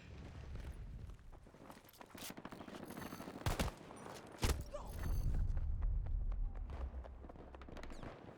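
Rapid automatic shotgun blasts in a tank-and-infantry video game crack out in quick bursts over rumbling battle noise and scuffling steps, with a few heavier booms standing out midway.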